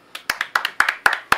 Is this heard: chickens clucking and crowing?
no